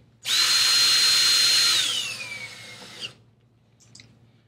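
A power drill drives a stainless steel screw slowly with a Phillips bit while a pre-hung door's lock set is installed: one steady, loud whine for about two seconds, then a falling pitch as it slows, with no talking.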